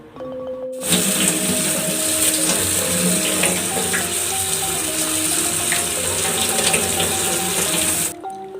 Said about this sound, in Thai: เทสะคูใส่กระชอนนำไปล้างน้ำนะคะ